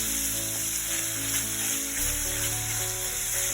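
Chicken and shrimp fry in a pan for a Thai-style soup, giving a steady, dense, close sizzle that holds evenly throughout with no talking.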